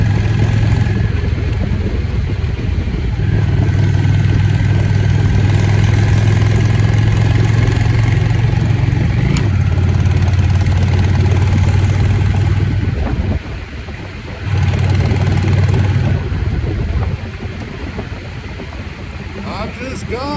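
A motorcycle engine idling and revving during a ride around the block, a loud steady low drone that shifts pitch with throttle changes and drops off briefly near the end.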